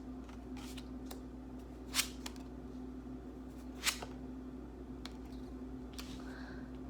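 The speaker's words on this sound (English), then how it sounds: "Let me go ahead and kind of flip over the tarot cards and see what the cards have to say." Tarot cards flip over on a table in quiet, sharp snaps and soft slides, two louder flicks standing out among faint shuffling over a low steady hum.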